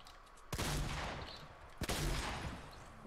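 Two sharp, loud bursts of gunfire in Fortnite, each with a rattling tail that fades over about a second.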